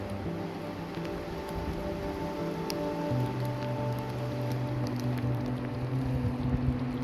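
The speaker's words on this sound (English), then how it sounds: "Also, it's raining again." Steady rain patters across a surface with a constant hiss on a backpacking route along the Toklat River in Denali, accompanied by a low sustained hum, and no one speaks.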